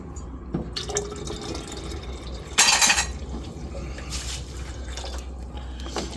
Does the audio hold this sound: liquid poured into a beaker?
yes